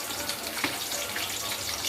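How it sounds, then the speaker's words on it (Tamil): Onions sautéing in a pan for hotel-style biryani, a steady, close hiss of sizzling oil that runs unbroken and evenly loud with no talking. "வெங்காயத்தை சேர்த்து நல்லா வதக்கிக்கோங்க."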